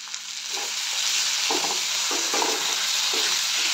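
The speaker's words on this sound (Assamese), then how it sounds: "এতিয়া মই সৰিয়হখিনি দিম" Ginger and garlic fry steadily in hot oil as mustard seeds go in, giving a continuous close hiss with soft stirring scrapes and pops recurring through the sizzle, no talking.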